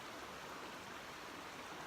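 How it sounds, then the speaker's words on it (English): A creek on the Ozark Highlands Trail flows with a steady, broadband rush of water that stays even and unbroken throughout, with no voices. "Creek here. I think this might be Dry Creek."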